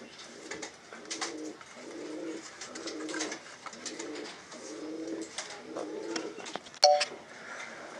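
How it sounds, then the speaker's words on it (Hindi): A baby pigeon coos in a steady series of soft, repeated low calls before being hand fed soaked sorghum, close and moderately loud, with a brief sharper chirp near the end. "अभी मैं कबूतर को खिलाने वाला हूँ"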